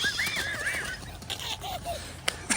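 A horse neighs outdoors in two whinnies, a long wavering call followed by a shorter lower one, moderately loud against background noise, with a sharp knock near the end.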